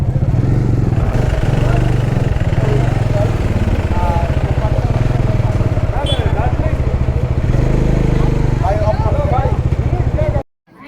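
A motorcycle on a road trip near the Nepal border, its engine droning steadily close by for several seconds before cutting off, with people talking over it.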